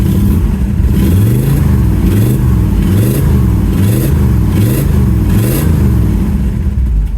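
A 1969 Ford Mustang Fastback V8, still cold, revs repeatedly in loud, rhythmic surges, about six throttle blips in a row over a steady, heavy idle, close by.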